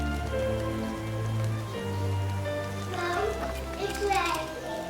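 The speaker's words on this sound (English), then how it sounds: "It's raining again, is it?" Rain patters steadily in the Santa Cruz cloud forest, partly masked by children's voices talking and playing nearby.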